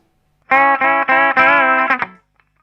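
Distorted electric guitar plays a short phrase from a song of sustained, buzzy notes, with two choppy palm-muted notes before it rings out and stops.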